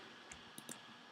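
A few faint, quick computer mouse clicks in quiet surroundings, three or four crisp ticks spaced unevenly within about a second, with no talking.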